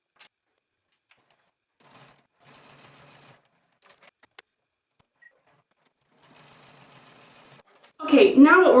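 A sewing machine stitches down a side seam and around a pocket curve in short, quiet bursts of rapid whirring separated by pauses, followed at the end by a loud burst of voice.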